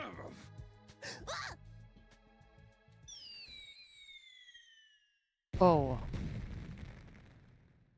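Fireworks in the video game Last Defense Academy: a few whistling shells streak downward in pitch, then a sharp burst bursts out and crackles away into a fading rumble, with a soft voiced exclamation and breathy sounds beforehand.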